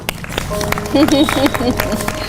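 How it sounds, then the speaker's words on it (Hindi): A group clapping along at a yoga session, sharp rhythmic claps beneath a prominent voice, close and fairly loud, with crowd noise in the background. "भाई नवजीत बढ़िया करे, इसके लिए ताली बजा दो"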